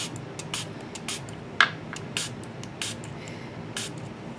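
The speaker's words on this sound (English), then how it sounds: "So I'm just going to spray some water." A hand spray bottle misting water while crafting, heard as a series of about eight short, crisp hissing sprays in a loose, uneven rhythm, close and fairly quiet.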